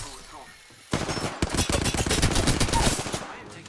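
Automatic weapon fire in the video game Apex Legends erupts after a quiet second, with rapid, loud bursts of shots rattling for about two seconds before cutting off.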